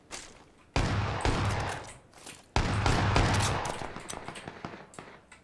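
Gunfire in the battle-royale game PUBG (Battlegrounds): two loud, sudden bursts of rapid shots, each ringing out and thinning into scattered cracks and thuds.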